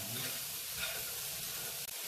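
Onion and whole slit chilies frying in a pan while being mixed, a soft, steady hiss of sizzling oil close by that runs without a break and cuts off briefly near the end, with no talking.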